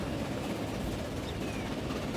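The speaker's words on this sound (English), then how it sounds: "Here comes a train somewhere." A train rolls past in Transport Fever 2 with a steady, dense rumble that holds at an even level throughout, moderately loud, with no talking.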